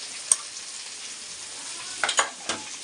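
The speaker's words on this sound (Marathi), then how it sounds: "आणि याला मिक्स करायचं खूप छानपैकी" Potato and brinjal bhaji frying in a pan as chilli powder, garam masala, turmeric, salt and coriander powder are mixed in, a soft steady sizzle with a few brief scraping stirs, close and quiet, no talking.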